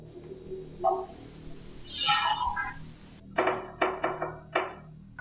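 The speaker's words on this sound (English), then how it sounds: "Can you knock twice for me now?" A series of knocks sounds in a room, several sharp raps in quick succession after a soft thud and brief noises earlier, fairly close and with no voices during the knocking.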